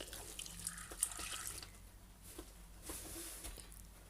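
Water splashes and trickles faintly into a cooking pot of fish paksiw, with soft drips and light clinks in a quiet room.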